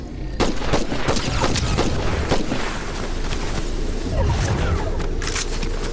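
Dense bursts of Fortnite gunfire crack repeatedly over a loud, rumbling battle din, with irregular volleys and heavy booms throughout.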